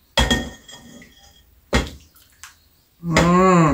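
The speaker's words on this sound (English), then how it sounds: "we're gonna go ahead and get some in the bowl here" Chili being ladled into a bowl: a few sharp, close clinks and knocks of a ladle against the bowl, spaced apart, then a brief tonal ringing scrape at the end. No speech.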